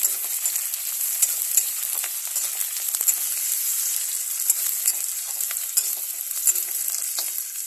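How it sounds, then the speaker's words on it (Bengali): Onions fry in a hot pan for a mutton dish, an unbroken close sizzle dotted with frequent small crackles and pops. "পেঁয়াজটা ভালো করে ভেজে নেবো লাল লাল করে"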